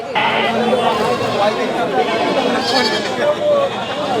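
Goats bleat at a busy Bangladeshi livestock market where desi goats are being bargained over, the calls rising intermittently from a dense crowd of chatter and voices.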